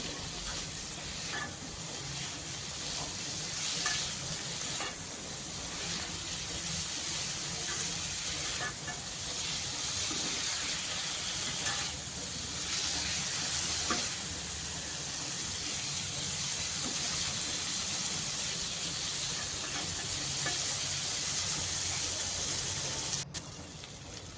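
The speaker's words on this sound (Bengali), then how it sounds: "বেগুনগুলো একটু নেড়ে নেব টমেটো আলুর সঙ্গে" Eggplant being stirred into frying potato and tomato in a pan gives a steady close sizzle with occasional scraping stirs, continuous and fairly even throughout.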